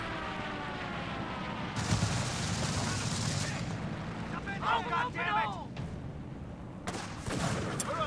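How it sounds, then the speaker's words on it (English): Airstrike explosions and gunfire from the real-time strategy game Company of Heroes 3: a steady roar of battle noise with heavy blasts breaking out near two and seven seconds, all fairly loud. "Oh, another airstrike."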